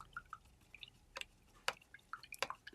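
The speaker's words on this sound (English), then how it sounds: "rinse that brush" A paintbrush swishes and taps in a water cup, making faint, scattered drips and light splashes with a few sharper clinks against the container.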